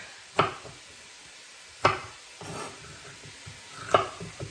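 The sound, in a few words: hamburger meat and chopped onion cooking in a pan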